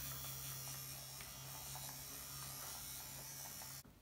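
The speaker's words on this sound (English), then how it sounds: "I actually bought myself a handheld fan so that I can dry my face quicker" A small handheld fan whirs steadily at close range during makeup, a low, quiet electric buzz with a constant hum that runs for several seconds before stopping abruptly.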